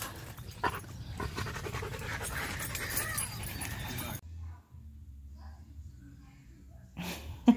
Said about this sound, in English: the spoiled puppy is on the bed